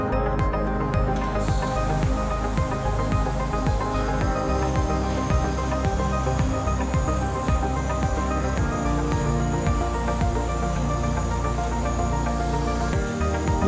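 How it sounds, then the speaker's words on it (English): Compressed air hisses steadily into all 16 cylinders of a Worthington engine generator during starting, a loud continuous rush with dense mechanical rumble and no talking. "Air will then be injected into all 16 cylinders."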